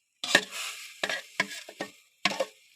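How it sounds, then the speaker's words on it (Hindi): A spoon stirs semolina and egg halwa in a pan, giving five or six separate scraping strokes with brief silences between them, close and fairly clear. "अब चम्मच को बराबर हिलाते रहना"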